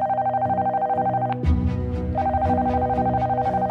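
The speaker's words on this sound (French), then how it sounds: "Le téléphone de Marine sonne à 16h36 dans un garage d'un petit village à côté de Chazé-Anse." A mobile phone rings with a loud, repeating electronic tune, its short pulsing notes going on steadily.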